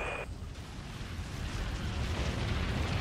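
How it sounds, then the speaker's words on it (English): A warp jump in the space combat game Dreadnought surges as a loud, sustained rumbling roar. A brief high tone cuts off near the start, then a dense low rumble fills the rest, swelling slightly toward the end. "All stations, warp jump on my mark"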